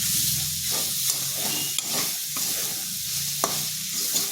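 Coconut paste scraped and stirred in a wok over medium-low heat, with a steady scraping rhythm, soft sizzle and a few sharper spatula knocks against the pan.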